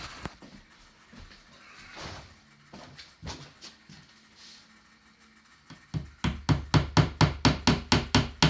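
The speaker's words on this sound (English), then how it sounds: "I was hammering a nail in and I heard shit falling back behind the wall." A hammer drives a nail into a wall, starting with scattered knocks and scraping, then a fast, steady run of loud, sharp blows close by in the final seconds.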